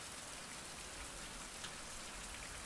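Steady, dense rain falls continuously in an open-world survival game, a soft even hiss of drops with no talking over it.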